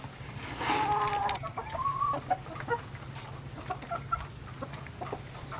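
Chickens cluck in a muddy yard during heavy rain, with a few distinct clucking calls near the start and softer scattered clucks afterward over a low, steady background rumble.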